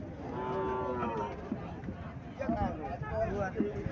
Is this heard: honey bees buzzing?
no